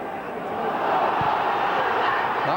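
Crowd noise at an Everton versus Newcastle United football match in 1995 as a roaring, swelling stadium murmur that rises midway, with a commentator talking over it.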